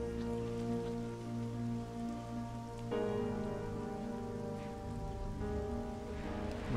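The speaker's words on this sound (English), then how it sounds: "Raindrops falling." Steady rain falls in the video game Flower as a continuous wash of patter under sustained tonal music, with no talking.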